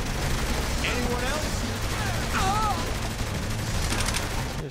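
Continuous gunfire during aerial combat in Saints Row: The Third, a dense steady rattle of shots over engine-like rumble, with someone talking throughout.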